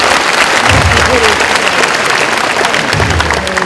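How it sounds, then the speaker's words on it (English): An audience at a premier lecture by Tony Fernandes claps steadily and loudly throughout, a dense continuous round of applause with a faint crowd murmur. "Please give her a round of applause for choosing AirAsia's color."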